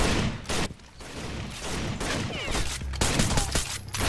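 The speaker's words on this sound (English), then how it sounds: "He's blind firing me, seriously?" Blind-fire gunshots in Rainbow Six: Vegas 2, a dense, loud volley of repeated gunfire with short gaps, ricochet-like whines and chaotic battle noise running throughout.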